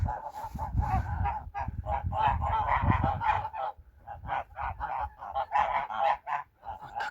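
Geese on a village farm, ganders keeping close around a goose, honking in a rapid run of loud, nasal calls that pause briefly and then resume in quick bursts, with no talk.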